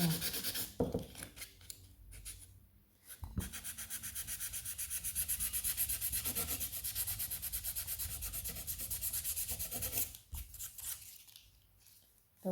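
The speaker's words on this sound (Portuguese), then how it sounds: "eu vou lixar todinha a peça, preparar ela para pintura" Sandpaper rubs steadily over a sealed wooden maternity door plaque, a close, continuous scratchy hiss in long strokes with brief pauses between passes.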